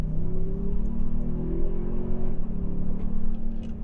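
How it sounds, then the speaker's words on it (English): A 2024 Toyota Sequoia TRD Pro SUV engine revs up under acceleration, its exhaust note rising in a steady low drone with rumbling pitch climbing and dipping, close by. "has a little bit of an exhaust note. You can hear it, especially upon acceleration."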